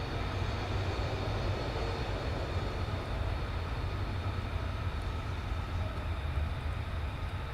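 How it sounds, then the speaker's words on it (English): F-35 fighter jets taxi at RAF Lakenheath, giving a steady, faint, distant roar of jet engines that holds unchanged throughout. "At the moment we're watching F-35s taxiing in."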